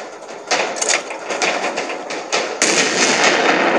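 Gunshots in an animated cartoon: a string of sharp, crackling bursts that come close together, loud and near, with a louder blast near the end and no voices.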